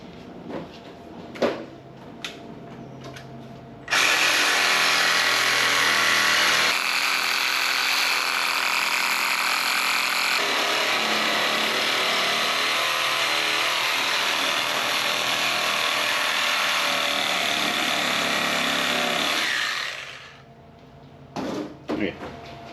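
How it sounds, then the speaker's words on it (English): A reciprocating saw cuts the lip of a subframe bushing collar on a Lexus IS300, droning loudly and steadily for about sixteen seconds, with short workshop knocks before and after. "we're going to sawzall that lip on 2 sides"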